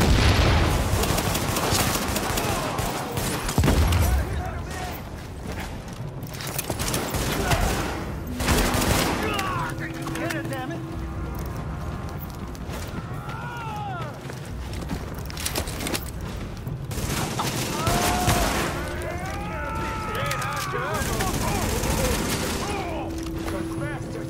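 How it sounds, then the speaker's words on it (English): Heavy gunfire in The Division video game at a field hospital, with dense, sustained bursts of shots and booms over about twenty seconds, under radio-style voice chatter and game effects. "escort party's taking heavy fire from the roof."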